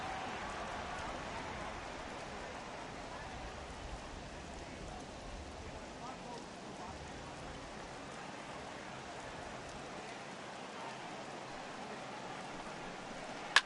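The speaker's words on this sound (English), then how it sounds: "It's raining cats and dogs out there." Steady rain pours down in a baseball video game, a dense continuous hiss holding at an even level for the whole stretch with no voices over it.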